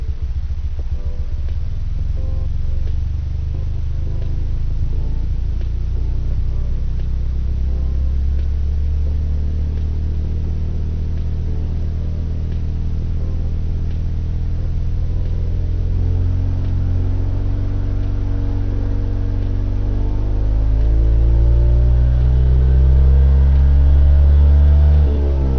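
A motorcycle engine idles next door, a steady low rumble heard indoors that rises into a louder, revving growl toward the end.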